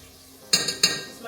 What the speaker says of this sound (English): I'm just scraping the jar of this minced garlic